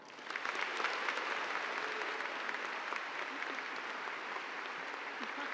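Sustained audience applause at a college of business graduation ceremony, welcoming a keynote speaker; dense, steady clapping from a large crowd lasting throughout, with no speech over it.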